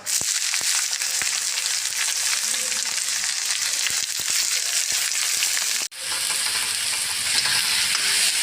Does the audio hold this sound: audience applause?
no